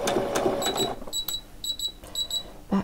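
A sewing machine back stitches along the very edge of fabric for a frilled top: a short burst of rapid stitching, then a series of bright electronic beeps, close and fairly quiet.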